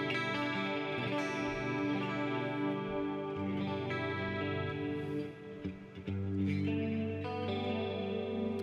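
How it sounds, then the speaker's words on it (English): Electric guitar played with a clean tone through a Line 6 HX Stomp multi-effects unit, coil tap engaged: sustained chords ring out with a chorus-like shimmer and echo, close and steady, with no talking. "I really like the clean tones, you know, especially when you pop out the old coil tap here"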